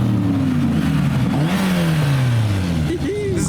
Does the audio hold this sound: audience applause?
no